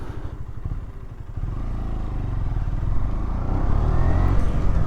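A 2023 KTM 125 Duke motorcycle engine drones steadily up close, its low pulsing rumble rising gradually in pitch and loudness as the bike rides along.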